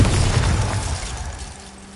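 A Bombarda explosion spell goes off in Hogwarts Legacy, a single loud, close boom with a broad rumbling burst that fades out over about two seconds.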